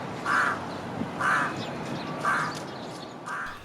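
Four loud, harsh crow caws spaced roughly a second apart, each a short raspy burst standing out clearly over a quiet outdoor background.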